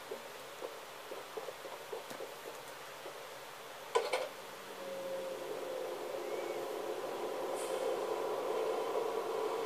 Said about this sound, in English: I need to back up the train just a little bit